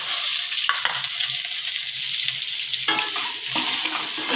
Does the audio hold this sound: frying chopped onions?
yes